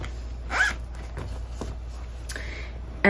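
A zipper on a Chanel wallet-on-chain pocket pulled open in a short rasping stroke, then another quick zip a moment later, close up and fairly loud.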